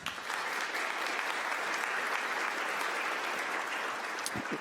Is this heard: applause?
yes